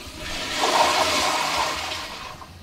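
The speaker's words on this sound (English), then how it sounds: "Listen to that flushing power." A public restroom toilet flushes with a strong rushing surge of water that swells, holds and slowly tapers off, loud and close with no talking.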